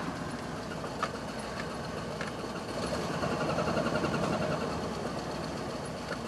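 A 1988 Ford F350 crew cab dually truck engine idles with a low, steady rumble and an occasional uneven stumble from a slight misfire, close and continuous, with no talking.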